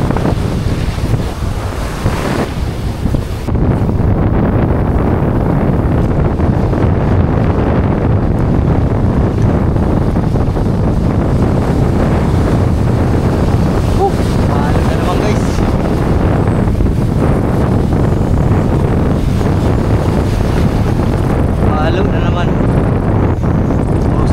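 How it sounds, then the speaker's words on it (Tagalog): Strong wind roars and buffets the microphone in a continuous, loud rush, with a faint wash of waves underneath. "Lakas ng hangin, grabe."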